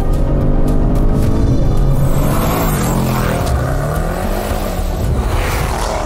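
Audi RS7 with a 4-litre biturbo V8 accelerating hard, a loud, sustained engine roar rising and falling in pitch as it pulls through the revs, close and continuous for the whole stretch.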